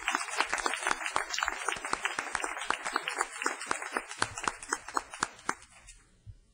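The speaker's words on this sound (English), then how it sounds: "Let's give these 4 schools a round of applause." An audience at a state board of education meeting applauds award-winning schools, with individual hand claps distinct and close, a moderate round that gradually thins out and stops near the end.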